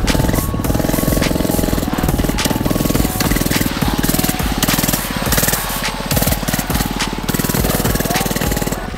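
FRP mini bike engine revving hard close by during a wheelie test, a loud rapid buzzing rattle with fluctuating throttle throughout.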